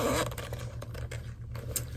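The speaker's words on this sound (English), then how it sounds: "there is a zipper right here, and the zipper says Chanel as well" A zipper on a Chanel mini flap bag is pulled close up, a short run of brisk scraping, ticking teeth with a few sharper clicks, heard alone without talk.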